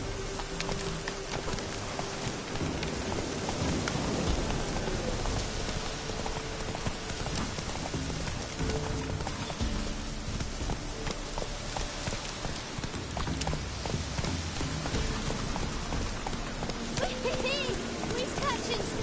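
Hooves of Geralt's horse Roach clip-clopping at a trot in The Witcher 3 on PS4, steady and mid-distance under rain and ambient game sound, with a voice speaking over it.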